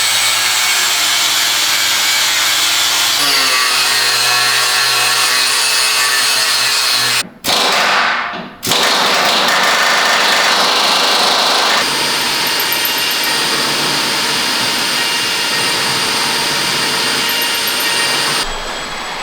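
Loud, steady whine of a power drill running continuously while fitting hammer hangers and limit straps to a Tacoma truck, briefly stopping and then starting again, with no talking.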